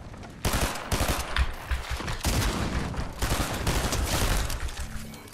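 Rapid bursts of automatic gunfire in a video game arena called the Thunderdome, dense overlapping shots rattling loudly and continuously for several seconds with brief dips between volleys.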